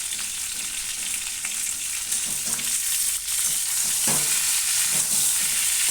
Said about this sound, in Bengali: আমগুলো এবারে দিয়ে দিলাম তিন থেকে চার মিনিট নাড়াচাড়া করে নেব তেলের তেলের মধ্যে